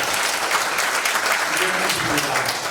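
An audience applauding at a church thanksgiving service for a new police chief's inauguration, dense, continuous clapping that fills the whole moment at close range.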